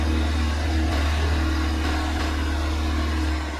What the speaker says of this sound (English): The engine revs up to high RPMs, but it's not enough to provide the wheels with sufficient torque.